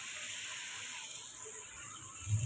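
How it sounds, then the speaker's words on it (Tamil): Okra frying in hot oil in a pan, giving a steady soft sizzle and hiss throughout, with a faint clatter near the end. "எண்ணெய் சூடானது இப்போ நம்ம வெண்டைக்காயை சேர்த்துக்கலாம்."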